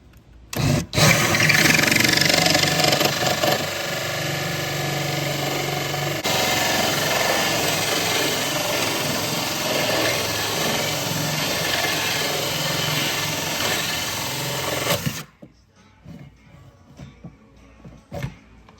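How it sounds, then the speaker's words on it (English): A power drill whines loudly and steadily for about fifteen seconds as it bores through the glass of a saltwater aquarium, then cuts off abruptly, leaving quiet handling noises. "we're gonna go to the other side of this and drill from the other side"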